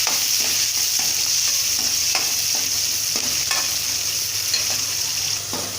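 Small onions sauté and sizzle in a pan, a steady loud frying hiss with soft scraping stirs of a spoon throughout, no voices.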